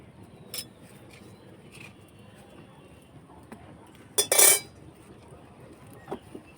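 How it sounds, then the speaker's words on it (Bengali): A metal kadai set down on a wood-fired earthen stove gives one loud, short clanking scrape of metal against metal, standing out from quiet surroundings, with a few fainter clinks before and after. "এবারে কড়াটা বসালাম"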